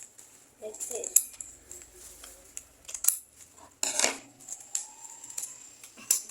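Scissors cutting paper to make a paper jet, a handful of sharp, close snips and rustles spread irregularly over a quiet background, with someone speaking between cuts.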